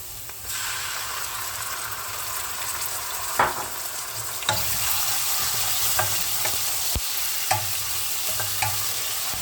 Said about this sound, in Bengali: পেঁয়াজটা একটু নাড়াচাড়া করে নিই